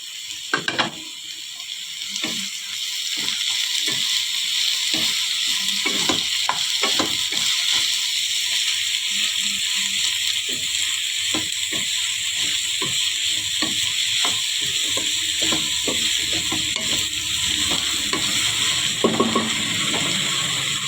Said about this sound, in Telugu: దీంట్లోకి బీరకాయలు వేసుకున్నాం.